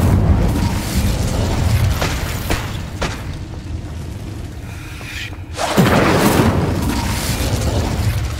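An Incendio fire spell cast in Hogwarts Legacy gives a muffled whooshing burst of flame that swells abruptly partway through, over a dense continuous rumble of game ambience.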